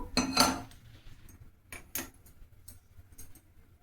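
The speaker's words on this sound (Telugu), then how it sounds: "స్టవ్ ఆన్ చేసుకొని ఒక గిన్నె పెట్టేసుకుందాము" Metal pot set down on a stove, with a couple of clanking knocks, a clear clink and a few lighter taps afterward, close by and without talk.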